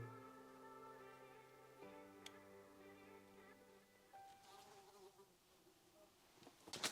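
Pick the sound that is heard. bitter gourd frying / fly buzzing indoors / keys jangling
fly buzzing indoors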